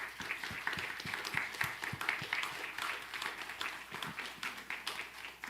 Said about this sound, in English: So I think a round of applause for all of you.